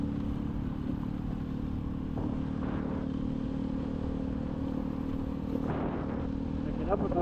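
A motorcycle with a loud, oversized exhaust passes on the left near Bintaro Loop, its engine rumble rising over the steady drone of a 2006 Honda Supra X 125 D being ridden in traffic.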